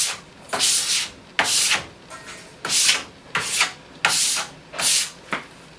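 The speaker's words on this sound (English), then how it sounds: "I will scrape a little bit like this, and I'll take it back over like this." A plastic scraper drawn repeatedly across a waxed snowboard base, seven or eight loud rasping strokes in an even back-and-forth rhythm, close up with no talking.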